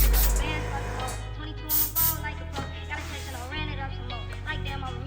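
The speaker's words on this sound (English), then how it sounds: "keep my distance and just lightly spray" Hair spray is lightly puffed during a barbershop haircut, giving brief hissy sprays over steady background music.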